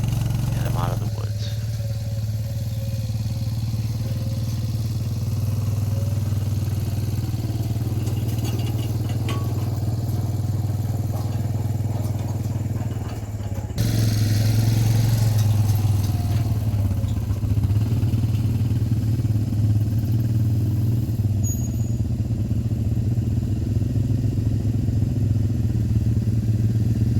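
A four-wheeler ATV engine runs steadily while towing a log trailer through the woods, a loud continuous mid-range drone that shifts and grows louder partway through.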